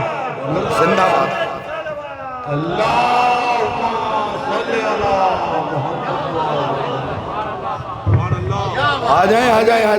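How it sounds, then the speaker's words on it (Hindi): A crowd chants the slogan "Labbaik Ya Hussain" at a Juloos-e-Amari procession on 22 Safar in Katghar Moosa, with many loud, overlapping voices carrying on throughout and a heavier surge near the end. "आपने लब्बैक या हुसैन का नारा लगाया, आपने जवाब दिया"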